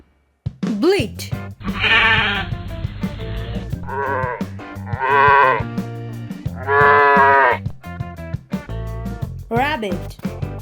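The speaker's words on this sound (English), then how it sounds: "Sheep, bleat." Sheep bleating several times in a row, loud and close, with wavering, nasal calls separated by short pauses and no speech.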